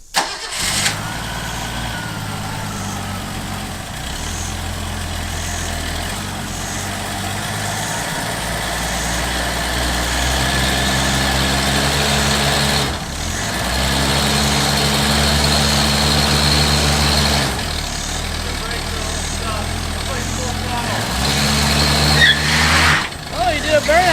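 Ford Durango engine after nine years parked, cranking and catching with a bark, then settling into a loud rough idle whose pitch rises and falls with revs, briefly cutting and restarting, with a few voices audible.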